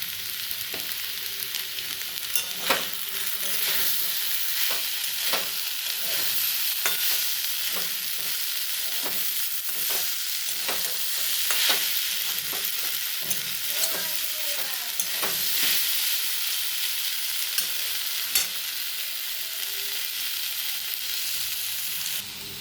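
Okra and potatoes stir-fried in a pan, producing a constant loud sizzle punctuated by frequent sharp scrapes and clacks of a spatula stirring, with no one talking.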